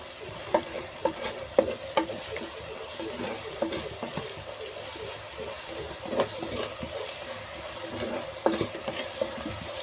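Onions, green chillies and curry leaves sauté in a pan with a soft continuous sizzle and repeated spatula stirring scrapes, close and moderately quiet, with no voices.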